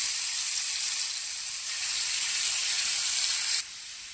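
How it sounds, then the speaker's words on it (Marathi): Grated coconut, garlic and coriander fry in a pan of hot oil, giving a loud, steady sizzling hiss that holds evenly throughout and then drops slightly toward the end. "तर बारीक केलेले खोबरे, लसूण आणि कोथिंबीर फ्राय करून घेऊया।"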